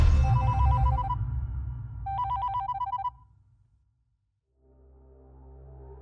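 An old-style telephone bell rings in two short bursts, loud and close, over a low rumble before it falls quiet.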